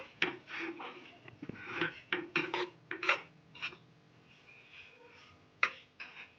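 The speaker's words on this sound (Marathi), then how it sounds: "सतत असं हलवत राहायचं आहे आपल्याला आणि गॅसची ही आपल्याला मंद राहू द्यायची आहे" Gram flour and semolina roasting in a pan on low heat for barfi, stirred constantly: a close series of irregular scraping and rubbing strokes of a spoon against the metal pan, some louder than others.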